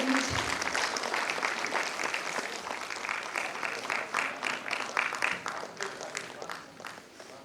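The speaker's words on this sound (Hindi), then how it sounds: "तालियां बजती रहनी चाहिए।" Audience applause at a book inauguration for a local history volume, a steady wash of many hands clapping that carries on for several seconds and slowly thins toward the end.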